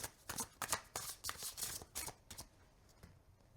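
Tarot cards are shuffled by hand in quick, crisp riffling bursts, close and fairly quiet, slowing and fading toward the end, with no voice over them.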